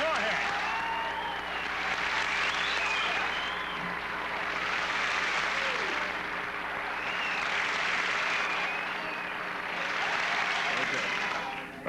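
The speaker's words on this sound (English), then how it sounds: "So why don't you give yourselves a hand?" Studio audience applause fills the room in a steady, dense wash of many hands clapping, swelling and easing in waves for several seconds, with a voice faintly over it.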